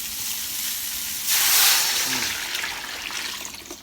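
Water pours into a pot of Thai boat noodle soup, a loud, steady rushing hiss that swells after about a second and then gradually tapers off, heard close up.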